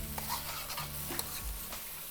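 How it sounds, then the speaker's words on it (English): Mapo eggplant gets a quick stir in a pan with the heat off, a short burst of soft scraping and light sizzle with a few utensil knocks. "quick little stir"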